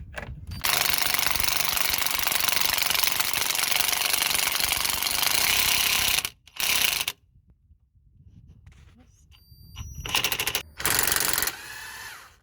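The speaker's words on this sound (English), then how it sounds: "just gonna undo the anti-roll bar linkage." Tool work on the anti-roll bar linkage of a Mitsubishi Lancer, Carisma or Colt suspension, with a loud rapid rattling, hammer-like burst running about six seconds, then a short stop and further brief bursts.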